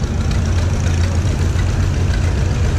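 Tractor engine idling at a threshing show, a loud, steady low rumble with a faint knocking pulse running throughout, no talk over it.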